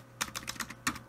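Several quick keystrokes on a computer keyboard, crisp close clicks in an uneven burst of about six taps, typing a query into the Windows search bar with no talking.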